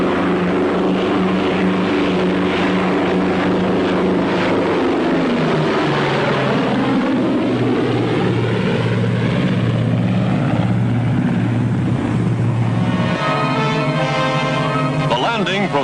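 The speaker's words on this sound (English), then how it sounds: "Their job done, fighter planes return to the carrier to refuel, rearm, and stand by to repel any new attack from the sky." Fighter planes fly back toward an aircraft carrier in wartime, their loud propeller-engine drone rising and falling in pitch as the aircraft pass, with talk over the engine noise.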